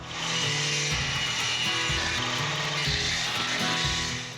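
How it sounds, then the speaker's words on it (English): A small table saw cuts a thick piece of reclaimed wood, its motor whining loud and steady close by and bogging down and recovering in uneven pulses as the blade works through the wood. "Do you think this piece of wood is ridiculous for this little table saw?"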